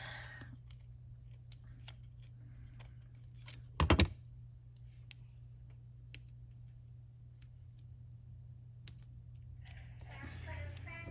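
Scissors trim paper cut-out legs in a few faint, sparse snips over a low steady hum, with one louder burst of handling noise partway through and some rustling near the end.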